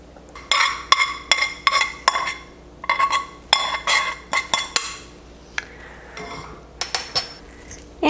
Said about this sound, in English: Now I'm mashing up an entire avocado.